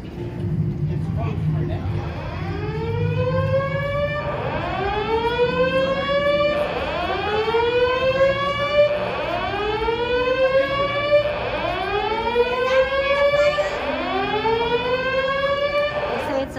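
Building fire alarm at Disneyland, a loud whooping electronic siren that sweeps upward again and again in a regular cycle about every two seconds, with a voice heard underneath.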